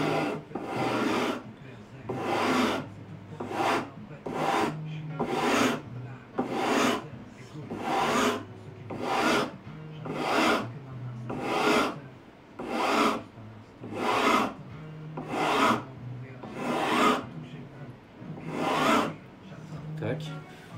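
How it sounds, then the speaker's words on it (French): A sanding block rubs back and forth across stainless steel guitar frets during fret levelling, about fifteen steady rasping strokes in an even rhythm, close and fairly loud, with no one speaking. "en passant la cale sur presque toutes les frettes"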